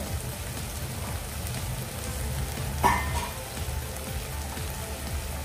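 Whole spices and masala frying in released oil in an open pan, a steady soft sizzling crackle like light rain, with one brief louder pop near the middle.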